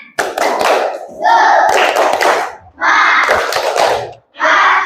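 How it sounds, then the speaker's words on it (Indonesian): A group claps together in rhythmic bursts, with pauses between patterns and a few voices chanting along. "Tepuk semangat"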